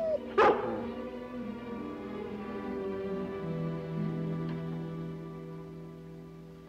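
A dog lets out a single sharp, loud bark close by, followed by lingering tonal background sound for several seconds with no speech.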